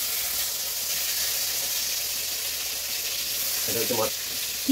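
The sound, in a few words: eggplant frying in fish oil in iron wok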